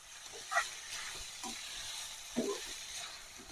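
Soaked toor dal sautés with onion in a hot pan, a faint steady sizzle and frying hiss with occasional soft stirring scrapes, no talking.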